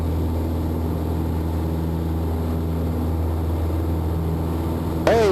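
Steady, droning piston engine of a Piper Super Cub taildragger running at takeoff power down a runway, loud and continuous throughout, with a brief sharp sweep near the end.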